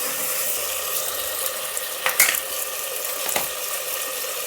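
Radish sambar with turmeric frying in a pot, giving a steady bright sizzle with a couple of sharper clicks and spits, close and unbroken, with no voices.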